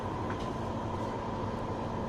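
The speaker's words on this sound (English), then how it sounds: "let's ride the SkyTrain over to the next station, which will be Granville Station" A Vancouver SkyTrain rides along with a low, steady rumble and hum of the car in motion, a continuous faint drone heard from inside.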